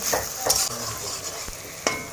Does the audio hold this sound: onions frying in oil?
yes